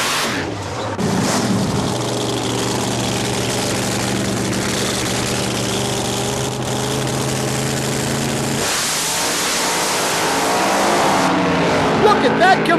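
Denny Brightwell's Bright Light Camaro drag car, a wheel-stand car with original factory sheet metal and a fiberglass hood, rumbles loudly at close range, its steady engine note shifting partway through, with talk underneath.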